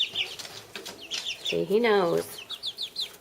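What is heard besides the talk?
chickens clucking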